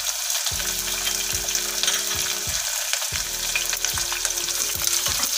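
Onions frying in oil in a pan, a steady close sizzle with bubbling crackle throughout, joined by a low repeating hum that starts and stops.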